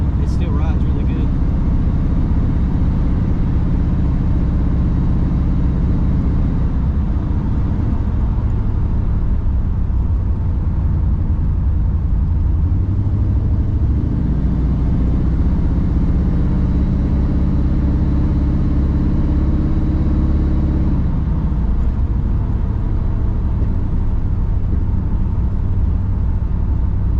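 A Cutlass riding on 24-inch wheels, with its engine not running at full strength, cruises along with a steady low rumble and road drone, its tone shifting a little as it moves, under occasional talk inside the car.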